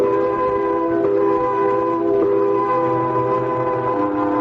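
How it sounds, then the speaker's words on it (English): A loud, steady factory quitting-time whistle blares continuously with a droning, harmonic tone, holding without a break. "Came quitting time, there was a whistle."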